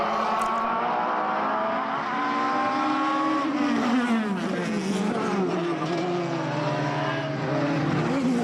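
Formula BOSS race cars flash past at Mondello circuit in Ireland, a loud, continuous high-revving engine roar with pitch sweeping down as the cars go by and gear changes audible.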